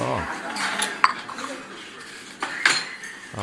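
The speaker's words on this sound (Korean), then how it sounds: "그릇이 부딪히는 소리가 나죠." Dishes and cutlery clink and clatter in a restaurant as plates are set down on a table, with sharp metallic ticks at intervals over a low murmur of diners' voices.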